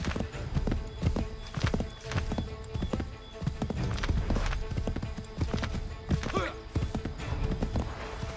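Hooves of a galloping horse in Assassin's Creed 3 clatter in quick rhythmic clip-clops with a brief whinny, close and fairly loud over game ambience, with someone talking at times.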